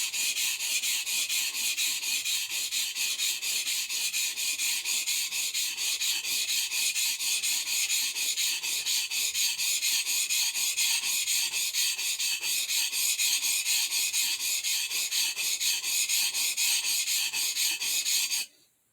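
A blade scrapes back and forth on a cheap Loveeta water stone in steady, rapid rasping strokes. The close, continuous grinding runs for about eighteen seconds and then stops abruptly.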